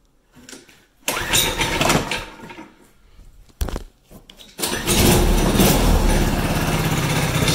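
A Predator power washer engine mounted on a homemade snowmobile is pulled over twice with sputtering bursts and short pauses, then catches and settles into a steady, loud running rumble close by.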